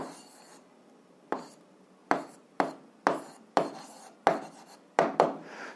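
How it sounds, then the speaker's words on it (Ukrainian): Handwriting on paper at a desk, a pen tapping down about eight times in an uneven rhythm with short scratchy strokes between taps. Close and clear, no talking. "записуємо відповідь, пишемо відповідь"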